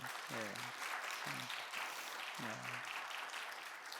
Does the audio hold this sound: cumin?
no